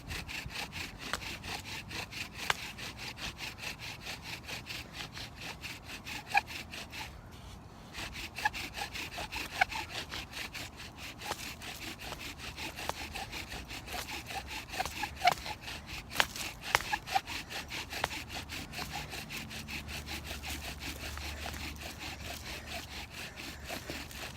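A bow drill spins a wooden spindle against a board in a steady, rapid back-and-forth grinding rasp, close and continuous for over twenty seconds, briefly pausing once.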